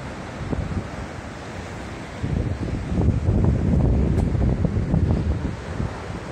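Atlantic Ocean surf at the Grande Plage, Biarritz, on the Bay of Biscay: continuous rushing waves with heavy wind noise on the microphone, swelling louder midway and staying steady.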